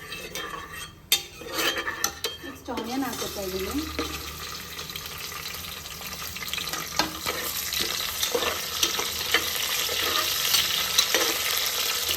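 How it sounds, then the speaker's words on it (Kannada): Onions fry in oil for mutton biryani, with a steady sizzle throughout. A spoon scrapes and clanks against the pan as they are stirred, and a voice speaks at times over the cooking. "ಆನಿಯನ್ ಫುಲ್ ಟ್ರಾನ್ಸ್ಲೂಸೆಂಟ್ ಆಗೋವರೆಗೂ ನೀವು ಫ್ರೈ ಮಾಡಬೇಕಾಗುತ್ತೆ"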